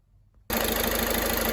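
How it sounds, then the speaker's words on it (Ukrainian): After a brief quiet moment, a Volkswagen Golf VI 1.6 TDI diesel engine starts after a timing belt replacement and settles into a steady, close idle with an even, low rumble. "Двигун працює без посторонніх звуків, можна віддавати клієнтові."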